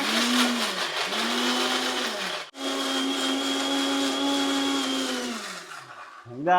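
A kitchen mixer grinder whirs loudly and steadily while grinding ginger-garlic paste, its motor briefly stopping and restarting partway through before winding down at the end.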